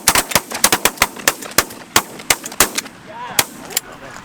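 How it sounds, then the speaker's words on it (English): Rapid volley of close, loud shotgun blasts while hunting birds, roughly a dozen and a half sharp reports in irregular quick succession from several guns, with faint calls of birds between shots. "We might have to shoot them right out the back."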